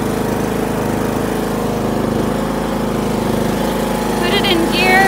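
Gas lawn mower engine running right after starting, a loud, close, steady idling rumble with even vibration throughout, as if choked a little, and no talk over it.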